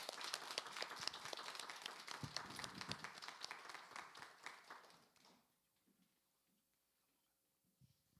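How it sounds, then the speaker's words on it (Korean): A church congregation applauds to welcome a guest preacher, a soft, distant patter of clapping that lasts about five seconds and then stops, leaving near silence. "우리 좀 박수로 맞이하겠습니다."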